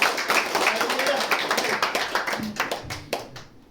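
A church congregation claps in praise to God, a dense run of hand claps that gradually thins out, with voices over it.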